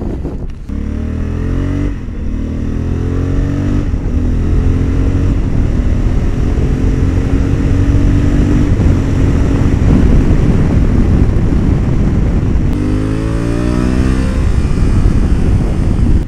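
A 2021 Honda Africa Twin motorcycle laps a race track, its engine loud and close as it climbs through the gears in rising sweeps, easing off and pulling again over a continuous roar.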